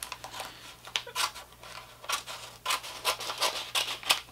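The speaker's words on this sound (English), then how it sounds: "Might need scissors for this one." Repeated snipping and crisp paper rustling up close as scissors cut through an envelope, in short irregular bursts.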